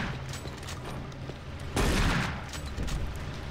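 Enemy gunfire in Doom 3 BFG Edition, a dense burst of rapid shots swelling midway over a constant low game rumble, with no talking.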